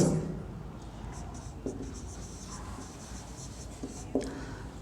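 Chalk or marker strokes on a board while a geometry proof on triangles and alternate angles is worked out, with light scratchy taps and short strokes at a steady, moderate level in a quiet room and no talk over them.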